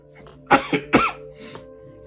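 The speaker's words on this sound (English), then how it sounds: "even though I'm coughing" A few quick, close coughs in a short cluster, rough and throaty, with quiet around them.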